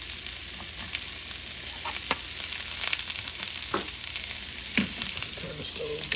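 Onion frying in a couple tablespoons of oil in a very hot skillet, a quiet, constant sizzle with occasional louder pops and spatters, and no voices.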